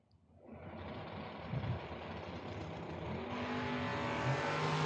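Drag race cars launch at the start of a 2022 Independence Showdown pass, a loud, sustained engine roar swelling quickly and holding steady, with a rising whine joining in near the end.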